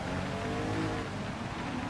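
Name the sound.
race car engine in video game Gran Turismo 7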